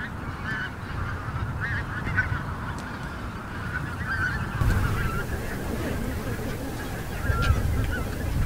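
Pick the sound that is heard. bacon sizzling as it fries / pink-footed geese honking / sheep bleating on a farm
pink-footed geese honking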